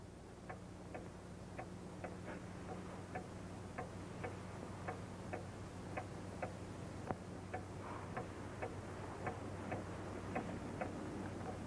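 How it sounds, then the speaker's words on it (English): A clock ticks at a steady, even pace through the whole stretch, each tick crisp but fairly quiet over a low, constant hum, with no voices. "Wind the clock."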